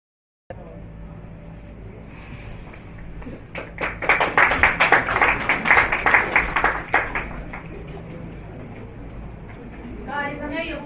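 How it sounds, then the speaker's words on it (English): Applause breaks out at a live academy launch event, building from sparse claps into a dense burst of clapping that peaks and then fades, followed by a brief stretch of quiet room tone and faint talk. "I know you can give a better round of applause"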